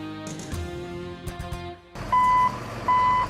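A salt truck's reversing alarm sounds in two loud, evenly spaced beeps near the end, after an earlier stretch of rumbling truck and street noise.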